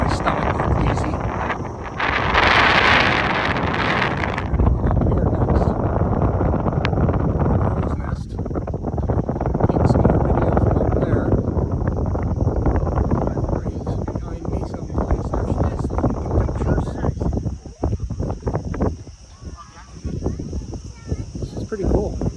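Strong wind buffets a Langkawi SkyCab cable car high above the ground, a loud continuous roar of microphone wind noise that swells and dips, with people talking over it.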